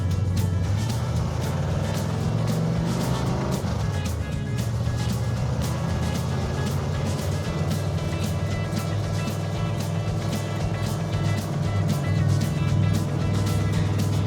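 A car engine runs steadily and loudly, heard up close from inside the vehicle: a constant low rumble with a rhythmic ticking pulse throughout and no clear breaks.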